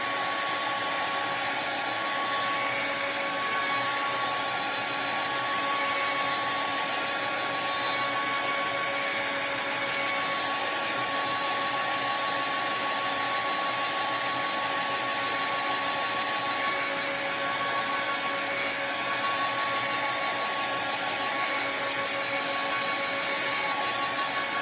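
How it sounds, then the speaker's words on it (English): A blow dryer runs continuously and close to the microphone for about 25 seconds, giving a steady, unchanging whirring hiss. "let me hit this with a blow dryer"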